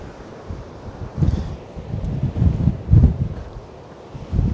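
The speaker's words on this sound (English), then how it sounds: "It is very windy." Strong gusts buffet the microphone on the Wild Atlantic Way near Doolin, County Clare, in low rumbling surges that swell and fade every second or so, with no voice over them.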